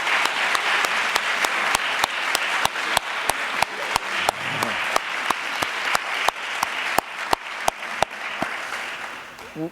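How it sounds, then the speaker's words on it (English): Audience at a church youth ministry gathering applauds standing team members, a sustained loud wash of clapping with sharp individual claps standing out near the front, continuing for nearly ten seconds. "can we all give them a round of applause?"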